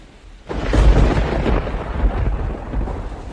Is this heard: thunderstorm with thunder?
yes